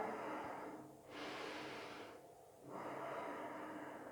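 Slow, quiet breathing during a yoga thigh stretch, close to the mic: long airy inhales and exhales in a steady rhythm with two brief pauses, no talking.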